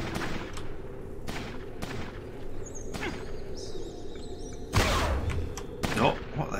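Vindicator minigun firing in the video game Fallout Tactics, with repeated short bursts of rapid gunfire over a steady background, including a louder, heavier burst near the end.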